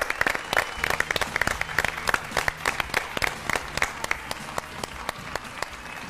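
A television studio audience on a Chilean morning show gives sustained, warm applause, an even wash of many hands clapping with a few louder claps close by and faint voices underneath.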